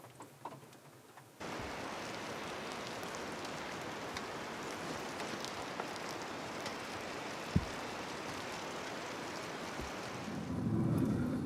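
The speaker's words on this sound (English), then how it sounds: "it is still raining" Steady rain falls in the bush near Smithers, British Columbia, a dense continuous hiss that starts abruptly and holds evenly, with one sharp knock midway and a brief louder swell near the end.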